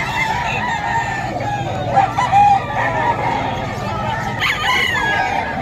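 A White Kelso rooster crows repeatedly at a busy pet market in Bocaue, Bulacan, its calls loud and close amid steady clucking and murmur from other fowl, with someone talking over it.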